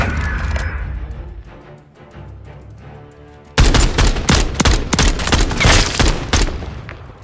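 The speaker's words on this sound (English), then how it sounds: "Good shots from Yogi coming in" Gunfire in the Search and Destroy mode of a first-person shooter video game: sharp, loud shots burst out halfway through and keep cracking in quick, rapid succession after a quieter lead-in.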